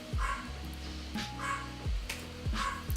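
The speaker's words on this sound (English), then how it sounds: "my dog just barks every time I stream" A dog barks repeatedly indoors, several loud close barks spaced roughly evenly with short pauses between them and no talking.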